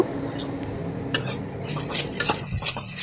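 A utensil stirs potato pieces with turmeric powder and salt in a pan, making irregular scraping and clinking strokes up close, with a faint sizzle underneath and no talking.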